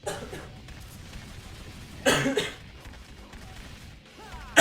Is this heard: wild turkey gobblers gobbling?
no